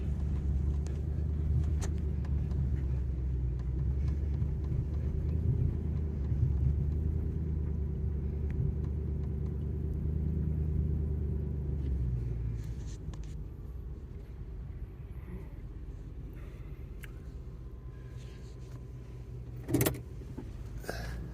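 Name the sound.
vehicle driving slowly loaded with scrap copper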